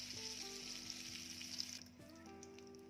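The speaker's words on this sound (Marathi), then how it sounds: "इथे मी बटर आणि तेल गरम करून घेते" Butter melting into heating oil in a pan, a faint, even frying sizzle with a soft steady hiss and little else.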